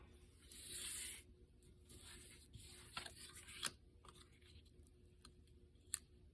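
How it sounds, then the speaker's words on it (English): Scissors cut a small scrap off the edge of a paper card, producing faint, close rasping snips and rustles, with a brief hissy stretch near the start and a sharp click near the end. "we'll just cut a little bit off that edge"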